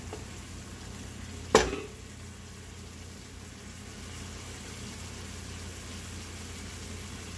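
Ingredients for a red coconut fish curry caramelizing in a pan: a steady low sizzle throughout, with a single sharp clatter of a spoon or utensil against the pan early on, close and fairly quiet.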